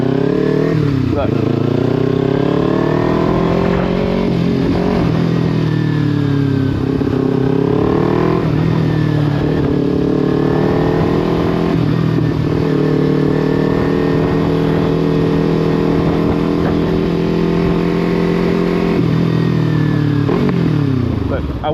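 A motorcycle engine runs loud and close, holding a rumbling idle with repeated rises and falls in revs across the whole stretch.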